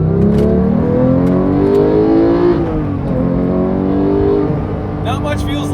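A manual Porsche 991.2 GT3 with a rear-mounted engine revs hard under acceleration, a loud rising engine note climbing steadily, dipping briefly at a shift and pulling up again, heard close from inside the car.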